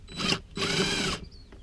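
A 5/16 tool loosening a radiator hose clamp on a 5.3L Chevrolet Silverado/GMC Sierra gives two close, loud whirring bursts with a short pause between, then a brief faint tail.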